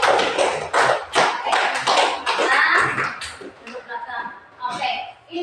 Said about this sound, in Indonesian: Oke, tepuk tangan untuk kelompok 1.